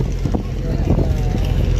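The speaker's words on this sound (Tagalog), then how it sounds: "So umaandar na yung makina" A tour boat's engine runs at a steady low drone as it pulls away from shore near El Nido, Palawan, with wind and water noise over it and faint voices in the background.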